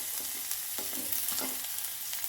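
Cumin seeds crackle and sizzle steadily in hot oil, a bright constant frying hiss with occasional stirring scrapes close by.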